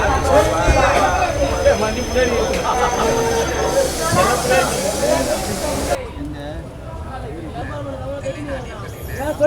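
Yelagiri Express passenger train running between Jolarpettai and Chennai Central, a steady loud rumble with rail hiss and wheel noise throughout, voices talking over it, the sound shifting abruptly partway through.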